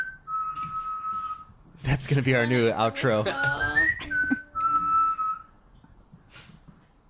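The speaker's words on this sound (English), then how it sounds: "Nice whistles." Human whistling in clear sustained tones, a long steady note at the start and another after a burst of talk and laughter, with people chatting between the whistles in a podcast studio.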